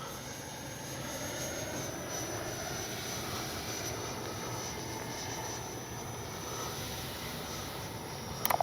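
An RC model jet on its landing approach with retracts deployed gives a steady, distant turbine whine and broad rushing roar, constant in level throughout.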